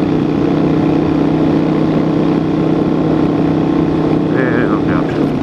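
A motorcycle engine droning steadily while riding, with a constant low hum and rushing wind, and a brief rise and fall in revs near the end as the rider downshifts.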